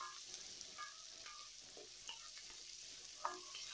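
Onions fry in a pan for kara chutney with a faint, steady sizzle and occasional soft stirring scrapes.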